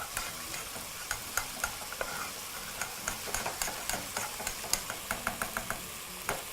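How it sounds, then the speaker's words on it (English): Food fries in butter in a pan with a continuous close sizzle, broken by regular sharp clicks and taps of a utensil stirring against the pan. "So I'm just going to proceed to fry those in the butter."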